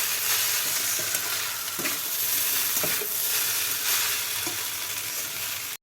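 Chow mein sizzles loudly and continuously in a hot pan, with occasional scraping strokes as it is stirred and tossed.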